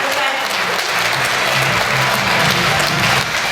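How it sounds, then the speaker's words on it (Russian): Sustained applause from a crowd, steady dense clapping throughout at a strong, even level with no talking. "победителю аплодисменты"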